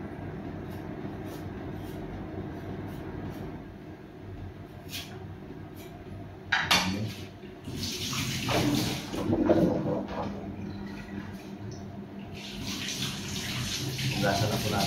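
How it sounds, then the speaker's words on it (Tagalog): Tomatoes and other ingredients for a Filipino tuna soup are rinsed under a running kitchen tap, a steady splashing water rush that swells and varies as hands move the produce, with faint background hum. "Hugasan na po natin yung mga ingredients natin."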